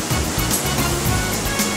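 Dettifoss, the waterfall in northern Iceland fed by the glacial Jökulsá á Fjöllum river, gives a loud, continuous rushing roar of heavy falling water with no breaks.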